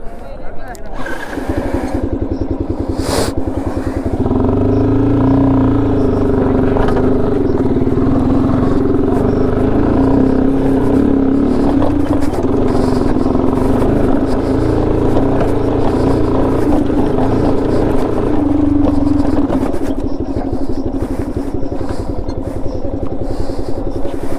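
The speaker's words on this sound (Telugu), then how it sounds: "ఇప్పుడు బైక్ తీసుకొని నా పైకి ఎక్కాలి." A motorcycle engine runs steadily and close on an off-road climb, its drone holding throughout while a voice talks over it.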